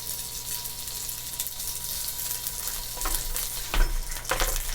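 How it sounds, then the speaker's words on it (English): Sous vide short rib burgers sear in hot oil with a continuous loud sizzle, growing sharper with spattering pops and a few bursts of intense crackle near the end. "I'm gonna go ahead and get my burgers in there"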